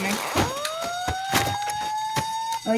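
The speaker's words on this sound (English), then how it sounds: "Oh, you can hear the fire alarm." A fire alarm wails in the video game Teardown as a building burns, a steady rising-and-falling electronic tone running through the whole stretch under bursts of crackle and talking.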